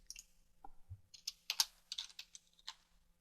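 Keys clatter on a computer keyboard while values are entered into Revit MEP software, a quick run of sharp clicks in irregular bursts, close and fairly quiet, with no one speaking.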